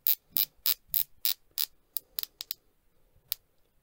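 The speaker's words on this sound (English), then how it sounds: "it's a ceramic bezel, 120 click." A ceramic 120-click bezel on a VanBanner PM 2.0 watch is turned, giving about a dozen crisp, close ratcheting clicks, steady at first and then more irregular, alone with no talking.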